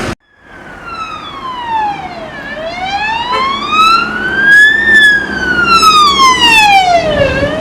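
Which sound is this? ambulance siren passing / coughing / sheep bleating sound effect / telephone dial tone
ambulance siren passing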